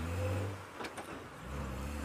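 Safari vehicle pulling away on a game drive: a low engine hum rising slightly as it moves off over about two seconds, heard close but fairly quiet, with some faint outdoor noise and no talk.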